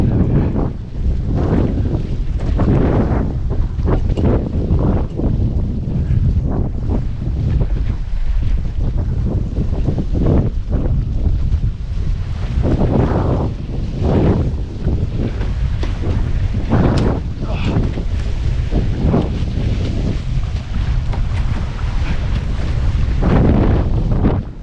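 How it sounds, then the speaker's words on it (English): A Hobie catamaran racing in strong winter wind, with heavy wind buffeting the microphone in rough gusts, water rushing and splashing against the hulls, and loud continuous noise throughout. "Get that boat moving again."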